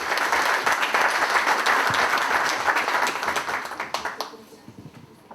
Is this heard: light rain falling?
no